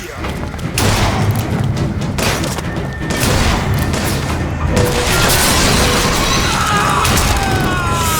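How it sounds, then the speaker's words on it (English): Flak cannon fire in BioShock Infinite: a loud, dense barrage of heavy booming blasts and crashing impacts that runs almost the full length of the clip. "He's got a flak cannon!"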